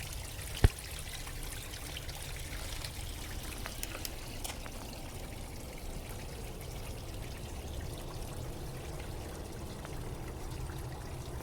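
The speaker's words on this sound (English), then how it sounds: "Just trickles." A small creek reduced to a trickle below a dam: continuous faint burbling and gurgling water with a low rushing undertone and one brief sharp tap near the start, heard alone outdoors.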